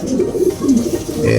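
A racing pigeon coos up close, a few low throaty rolling coos in quick succession, loud and clear with faint background noise.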